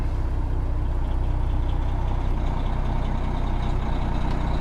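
A grain truck on a farm rumbles along with a loud, steady low engine drone and no break in the noise.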